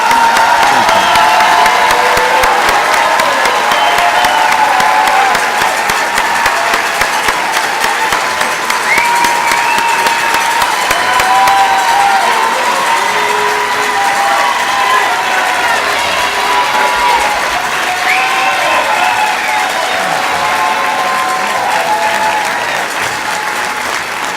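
A large crowd at a fire and EMS recruit graduation ceremony claps continuously, a dense, sustained roar of applause that fades slightly toward the end.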